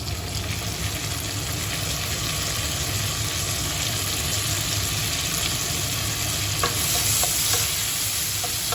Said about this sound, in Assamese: এতিয়া মই ইয়াতে এটা বিলাহী কাটি ৰাখিছিলোঁ, ইয়াতে দি দিম।